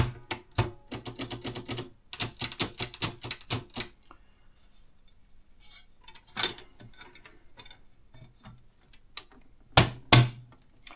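Keys clack on an Olympia typewriter in quick irregular bursts of sharp strikes, a pause, then scattered single taps and a couple of louder knocks near the end, close and clear with no voices.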